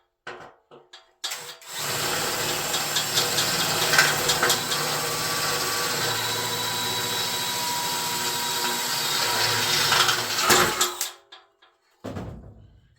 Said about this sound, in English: Drill this hole.